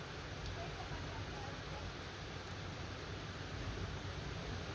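Steady, dense hiss of rain falling throughout, a constant wash of noise with no breaks and no clear voices.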